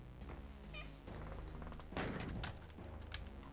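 A house cat meows near the microphone during a game of Ultimate DOOM, its short cries mixed with game music and loud gunfire and explosion effects.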